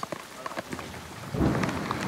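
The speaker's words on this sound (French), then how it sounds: "Même de nuit, quand un grain s'abat sur le pont, c'est le branle-bas de combat général pour récupérer un maximum d'eau de pluie." Rain squall pouring onto a boat deck at night, scattered drops pattering at first, then a heavier burst of rain drumming on the deck, with no talk.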